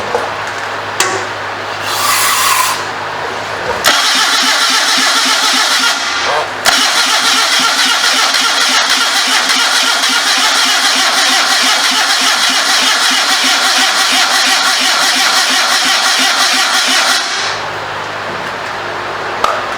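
A 650 motorcycle engine on a homemade trike cranking over repeatedly, a loud continuous starter grind lasting many seconds that is cut off briefly twice, with no sign it catches.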